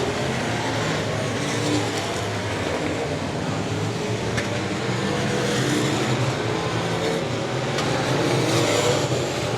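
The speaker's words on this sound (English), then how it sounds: "Dean Abbey still slicing and dicing through some lap traffic" Race cars roar around Heart O' Texas Speedway during a Southern Nationals event, a steady, loud wash of engine noise with cars weaving through lapped traffic, continuous throughout with no clear pauses.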